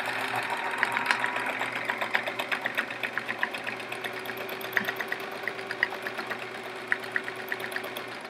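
A sewing machine doing swirl free motion quilting on a chevron quilt gives a steady, fast, even needle patter with regular rhythmic clicks, close and fairly quiet, with no talking.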